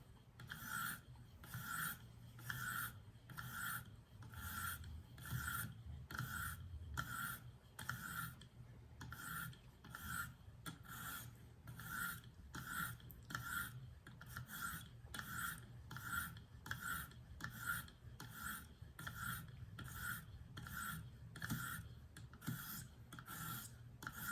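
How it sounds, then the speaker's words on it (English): A Kershaw Reverb knife blade drawn across a 1500 grit stone on a KME sharpener, giving steady, evenly spaced rasping strokes that repeat quietly and alone for the whole stretch. "And we are starting with the 1500 grit stone."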